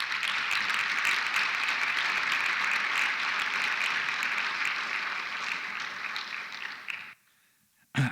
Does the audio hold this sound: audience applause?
yes